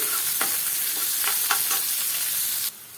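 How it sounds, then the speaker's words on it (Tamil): Onion and a little dal frying in a pan for a brinjal gravy, a close, continuous sizzle with a few soft stirring scrapes, ending abruptly, no voices. "ஒரு பெரிய வெங்காயம் சின்னதாக கட் பண்ணி வச்சுருக்கேன் அதையும் சேர்த்துக்கலாம் அது கூடவே கொஞ்சமாக பருப்பில் சேர்த்துக்கும் சேர்த்துட்டு வெங்காயம் வதங்கி நல்லா வதங்கி வரட்டும்"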